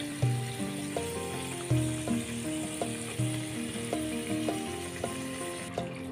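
Chana dal keema cooks in a pan with a steady sizzle and bubbling, while a low musical hum and repeating rhythmic notes run underneath throughout.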